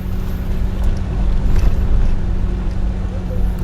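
A car climbs a long, gently sloped uphill road toward Bukit Aslan in Bandar Lampung, its engine a steady low drone with road rumble that holds evenly throughout.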